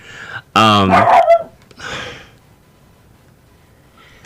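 Dogs bark inside a home: one loud, close burst of barking, then a shorter bark, then quiet.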